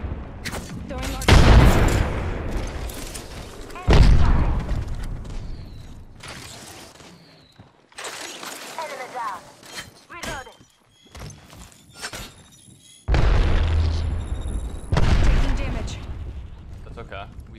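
Several loud, booming frag grenade blasts in the Apex Legends video game, each a sharp burst fading into rumble, spaced a few seconds apart amid gunfire and clatter, with a voice talking over the action.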